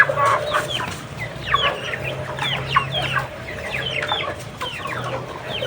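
Several native hens cluck in short, repeated bursts close by, with steady farmyard background noise underneath.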